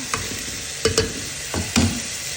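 Green onions sizzle in a pot with butter and onion while a utensil stirs in a few quick, close scraping knocks over the steady frying hiss.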